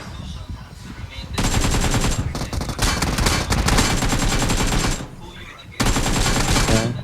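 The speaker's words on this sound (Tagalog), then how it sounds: "Marinig ko baril." Rapid automatic gunfire from a video game rattles in long, loud, close bursts with short pauses between them, a voice faintly under it.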